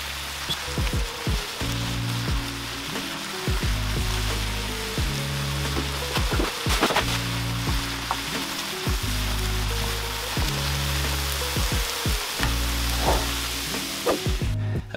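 Vegetables stir-fry with miso in a hot pan for a vegan meal, a steady crackling sizzle heard throughout under a prominent backing music track.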